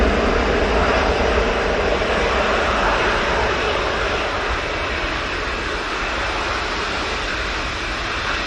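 An EasyJet airliner arriving at Manchester Airport gives a loud, continuous broadband engine roar that slowly fades slightly, heard alone without voices.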